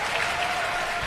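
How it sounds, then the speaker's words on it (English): A crowd at a pickleball championship match in Penang breaks into a brief, dense burst of applause and cheering. "look at the crowd going wild"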